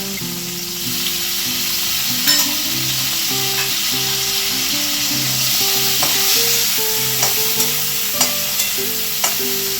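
Boiled potatoes sizzle and fry in a hot pan with oil, a steady loud crackle interrupted by repeated scraping knocks of a spatula stirring them throughout.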